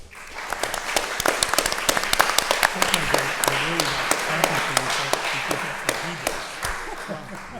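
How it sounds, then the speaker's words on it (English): Audience applause at the close of a talk on area studies and Western policy toward Russia, a steady wash of many hands with sharp individual claps standing out and a voice speaking underneath. "I'm clapping for them."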